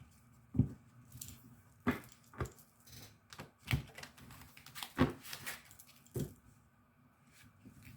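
Tarot cards are shuffled by hand in short bursts, a series of soft papery flicks and slaps at uneven intervals, close and fairly quiet, with no speech.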